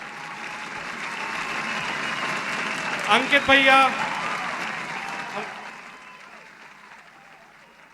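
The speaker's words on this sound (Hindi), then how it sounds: "जोरदार तालियों से अभिवादन करें।" An audience at a community quiz gathering during Dashlakshan 2022 claps steadily and loudly throughout, with a voice briefly speaking over the applause before it gradually fades.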